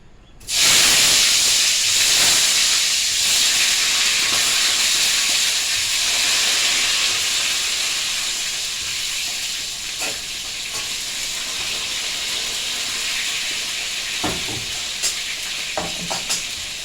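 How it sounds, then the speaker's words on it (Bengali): Eggplant sizzles steadily in hot oil, a loud, close, continuous frying hiss with a few light clicks and spatters toward the end. "আমি বেগুনটা ভাজবো"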